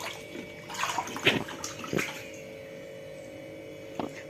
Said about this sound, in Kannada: ಕ್ಲೀನ್ ಮಾಡಿ ತೊಳಿಬೇಕು ಯಾಕಂದರೆ ರಕ್ತ ಎಲ್ಲ ಒಳಗಡೆ ಇರ್ತಿತ್ತಲ್ಲ ಅದನ್ನೆಲ್ಲ ಚೆನ್ನಾಗಿ ತೊಳಿಬೇಕು